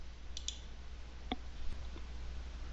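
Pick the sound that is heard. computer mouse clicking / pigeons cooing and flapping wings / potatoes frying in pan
computer mouse clicking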